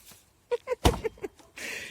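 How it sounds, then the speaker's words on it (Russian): An axe, a splitting maul, hacks at a wooden door, giving a series of sharp, close knocks with one heavy thud in the middle and a scraping rustle at the end. "рубит двери"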